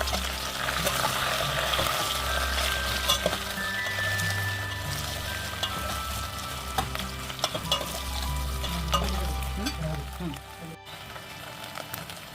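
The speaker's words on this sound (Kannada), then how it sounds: "ಈಗ ಕತ್ತರಿಸಿಟ್ಟ ಬೆಂಡೆಕಾಯಿಯನ್ನು ಮತ್ತು ಈರುಳ್ಳಿ ಚೂರುಗಳನ್ನು ಎಣ್ಣೆಯಲ್ಲಿ ಹಾಕಿಕೊಂಡು ಎಲ್ಲವನ್ನು ಚೆನ್ನಾಗಿ ಮಿಕ್ಸ್ ಮಾಡಿ ಸ್ವಲ್ಪ ಮಟ್ಟಿಗೆ ಹುರಿದುಕೊಳ್ಬೇಕು" Chopped okra and onion fry in oil with a steady sizzle and occasional scraping stirs, while a person speaks over the cooking throughout.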